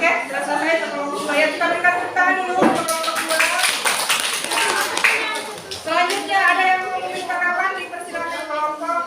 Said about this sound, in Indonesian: Kita berikan tepuk tangan dulu untuk kelompok 2